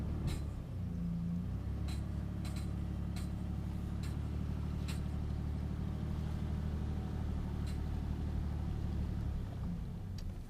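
A pickup truck in first gear pulls a bass boat on its trailer up out of the water at a launch ramp, a steady loud engine rumble running throughout with faint clicks and knocks above it.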